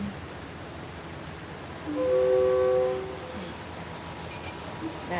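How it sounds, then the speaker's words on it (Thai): A Thai passenger train's horn sounds once for about a second over steady rumbling noise, then the low rolling continues as the train moves off. "เคลื่อนขบวนแล้วค่ะ"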